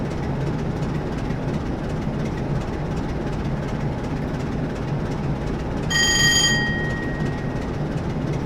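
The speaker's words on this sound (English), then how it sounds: "the AWS in the Class 47, it's a bell and a buzzer" Class 47 diesel-electric locomotive AWS warning, a bright bell-like tone with harmonics ringing briefly midway, one trailing tone lingering, over steady cab rumble and engine noise while passing Clapham Junction.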